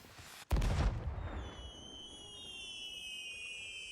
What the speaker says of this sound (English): I love fireworks. It's so fun.